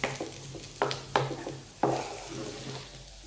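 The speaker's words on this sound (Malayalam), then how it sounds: "ഈ സവോളയും ഈ പൊട്ടറ്റോയും കൂടെ നല്ല മിക്സ് ആവണം." A spoon knocks and scrapes through an onion and potato mixture in a pan with a soft sizzle beneath, giving several distinct close taps over a steady low frying hiss.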